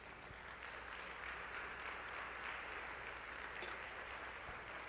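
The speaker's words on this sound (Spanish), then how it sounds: "da un aplauso al Señor por eso" A church congregation applauds in a steady wash of many hands clapping together, sustained for several seconds and heard faintly, as if from a distance.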